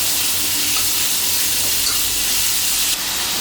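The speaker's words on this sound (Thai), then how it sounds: "เอากระเทียมลงไปเจียวให้หอมนะครับ เสร็จแล้วก็จะเอาหมูนะฮะ" Garlic and pork fry hard in a pan for dry sukiyaki stir-fry, a loud, close, continuous sizzle and hiss that eases slightly near the end.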